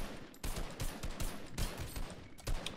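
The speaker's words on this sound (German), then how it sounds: "wenn auf einmal vier Leute auf einen Einzelperson schießen" Repeated bursts of automatic gunfire in the video game Fortnite, several loud volleys in quick succession with short gaps between them, as multiple players fire on a single opponent at close range.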